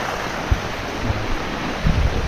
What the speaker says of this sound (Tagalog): Ayun, lakas ng tubig.